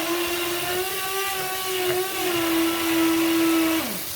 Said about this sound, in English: Now I put my sauce in the blender because I want the cherries.